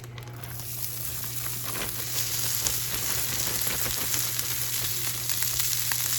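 A steady, loud sizzle of rice frying in a pan, with faint crackles and an underlying hum throughout.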